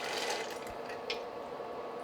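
Soaked, peeled peanuts tipped into a pot of oxtail soup, giving a steady wet rattle and splashy pour with a few brighter clicks, close and fairly even throughout, with no talking.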